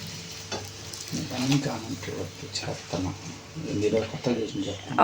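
Puris frying in hot oil, a soft continuous sizzle and bubbling with stirring and flipping noises, under steady conversational talk from people nearby.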